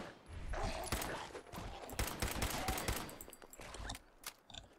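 Rapid bursts of gunfire crackle and pop over a busy, noisy mix, loud and repeated in clusters throughout, in the video game Fallout 4.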